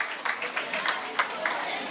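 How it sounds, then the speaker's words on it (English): Scattered hand claps from a seminar audience greeting the panelists at a career event, a thin, uneven patter of a few sharp claps at moderate distance, with no one speaking. "Please give a round of applause for all these panelists"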